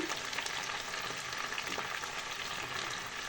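Sliced mushrooms, potatoes and bacon crackle and sizzle in a hot pan, a dense, steady frying hiss with small pops, close and with no talk over it.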